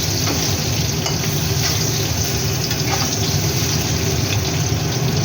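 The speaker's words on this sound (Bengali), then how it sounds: "একটু লাল লাল ভাজা হবে" Steady, loud sizzling of eggplant frying in hot oil, a continuous crackling hiss with occasional stirring clinks and no voices.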